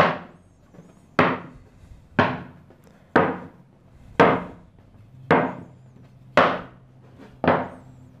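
Pieces of a wooden end-grain cutting board are flipped over one by one onto a workbench, giving eight sharp, evenly spaced wooden knocks about a second apart, close and clear with no talking.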